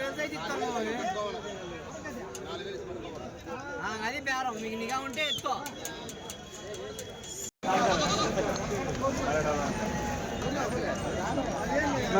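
Goats bleat in short wavering calls amid a busy crowd of voices, with continuous chatter and bustle throughout at a weekly goat market in Kadiri.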